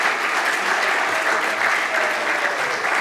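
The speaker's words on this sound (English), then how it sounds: "Let's give a proper round of applause to" An audience applauds for the cruise masters at an Easter Sunday church service, a continuous, even roar of clapping with no voices over it.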